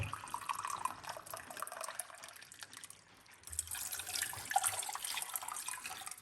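Hot water runs steadily from a cup into a pot on a cooker, about one and a half cups in all; the close, splashing pour dips briefly midway, then resumes fuller and louder.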